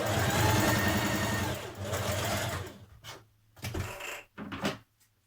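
A sewing machine stitches down the facing of a Tilly and the Buttons Mimi blouse, running in a steady whir for a few seconds, then in short stop-start bursts close by, without talk.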